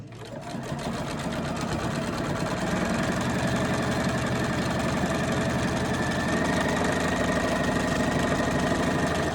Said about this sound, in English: Foot down, sewing. Just sewing, nothing crazy